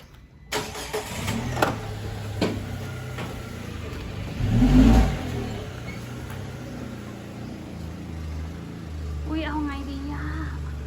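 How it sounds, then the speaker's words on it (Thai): A car engine revs and pulls away, rising to a loud surge mid-clip before settling into a lower engine drone, with voices talking intermittently over it. "ขับรถออกไปแล้ว"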